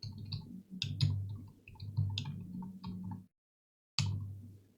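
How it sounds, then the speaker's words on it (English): Keys tapped on a computer keyboard to type a short terminal command during web programming, a quick run of close clicks, then a brief silence and one final keystroke like hitting enter. "So let's type in PHP artisan migrate."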